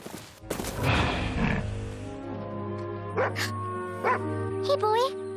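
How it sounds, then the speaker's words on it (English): Cartoon dog barking in a few short yips and barks mid-clip, set against a cartoon score and sound effects, with a brief voice near the start. "Now, where's that dog?"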